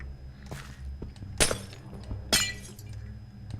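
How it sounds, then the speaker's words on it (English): Glass blocks shattering in Minecraft, two sharp bright breaks about a second apart over quiet background shuffling, close and distinct with brief tinkling tails. "Just break the glass."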